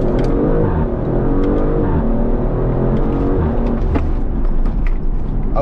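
An Audi RS5-R ABT accelerates hard, its engine roaring loud and close with steady rising harmonics and no pauses.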